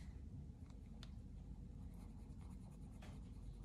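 Colored pencil strokes laid down on paper in a quiet drawing session, giving soft, close scratchy scrapes with a few sharper strokes over a low steady background hum.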